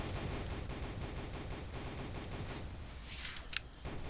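Rapid automatic gunfire from a deathmatch in the mobile shooter Shadowgun Deadzone, a steady dense rattle that runs throughout at moderate loudness, with a few sharper cracks near the end.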